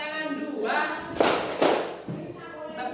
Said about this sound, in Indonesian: Tepuk tangan 2